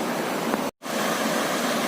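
Rain-swollen water pours in a broad, steady rush over the surface of Baradha Dam near Talera, Bundi, a loud continuous roar broken only by one brief dropout.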